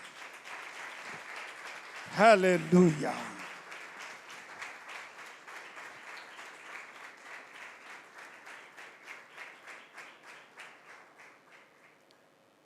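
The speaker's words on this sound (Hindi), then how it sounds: "उसकी प्रस्तिश में जोरदार तालियां सलीब के लिए" Loud applause for the cross breaks out in a church Bible class on Ephesians, a brief burst of clapping that rises sharply, then thins into lighter scattered claps fading under a preacher's voice.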